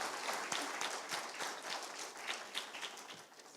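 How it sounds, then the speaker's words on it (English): Audience at a chartered accountants' chapter annual general meeting in Oman applauds a new treasurer, with dense sustained clapping from a crowd in a hall that fades slightly toward the end. "Let's give a big round of applause to our new treasurer Ashish."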